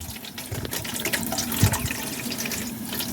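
Water pours from a tap into a pot of Jamaican pork wine stew, a steady splashing gush with a brief clunk midway, close and clear with no talking.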